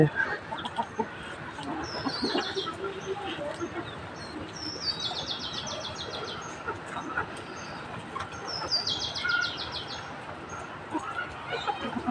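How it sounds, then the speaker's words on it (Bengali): Farm chickens pecking at grass and leaves in hot weather cluck steadily up close, while bursts of high bird chirps recur over a continuous busy background. "দেখেন মুরগি"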